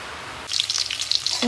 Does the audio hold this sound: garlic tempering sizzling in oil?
yes